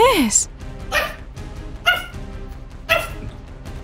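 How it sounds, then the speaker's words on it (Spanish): A dog barks and yips in several sharp, loud bursts spaced about a second apart, with a whimpering, whiny quality to some barks and a voice talking in between. "Pero tú, ¿por qué estás ladrando tanto?"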